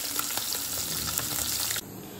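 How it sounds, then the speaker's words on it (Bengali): Small puti fish frying crisp in hot oil, a dense steady sizzle and crackle running close and loud, then dropping suddenly to a softer hiss near the end. "প্রথমেই আমি পুঁটি মাছগুলিকে একদম কড়া করে ভেজে নেব।"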